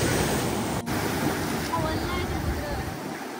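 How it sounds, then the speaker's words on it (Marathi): Sea waves wash onto the shore in a continuous loud roar of surf, with wind buffeting the microphone throughout and no speech heard. "आणि या समुद्राच्या लाटा"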